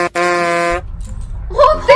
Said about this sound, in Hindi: हॉर्न बजाना जरा।